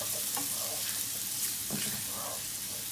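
Food fries in a pan for chicken karahi, a continuous soft sizzle with occasional stirring scrapes, steady and close throughout.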